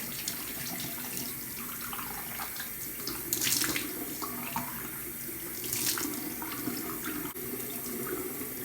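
Tap water runs steadily into a sink during face rinsing, a continuous broadband rush with two brief louder surges of splashing, close and alone with no talk.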